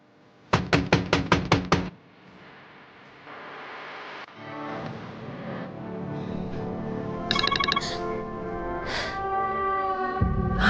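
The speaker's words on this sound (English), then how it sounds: "I could hear a knock on the door" Several quick, sharp knocks land on a door, followed by a ringing phone tone and other indoor sounds.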